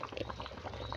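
Lofa greens curry simmering in a covered pot, giving a close, steady bubbling boil with soft gurgles throughout.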